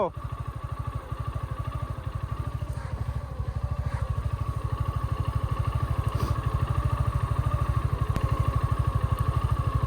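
A motorcycle engine runs steadily on a rural dirt road, its low, rapid pulsing loud and close throughout, growing slightly louder toward the end, with voices talking over it.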